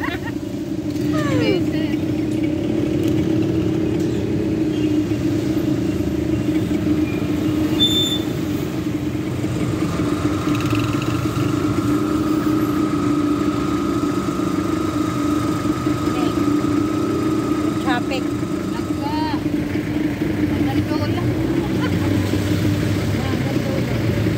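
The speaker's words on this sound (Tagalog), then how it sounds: "Traffic." Car engines idle and rumble in slow road traffic, a steady low drone with a passing vehicle's rising tone in the middle, while people talk nearby throughout.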